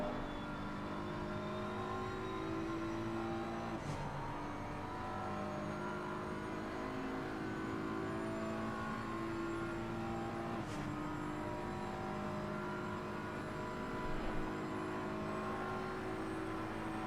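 A BMW race car in a sim racing game holds a steady, droning engine note down a long straightaway at Paul Ricard. The high-revving tone is continuous and even, with slight pitch shifts at gear changes.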